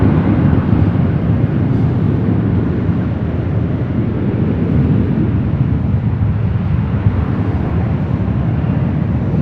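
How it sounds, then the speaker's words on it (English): A Delta Airbus A330neo jet airliner at Los Angeles International Airport produces a continuous broad roar of engine noise, steady and fairly loud for the whole stretch, with a rushing wind-like quality and no voices. "Again, that is the A330 and Neo with Delta heading to London Heathrow."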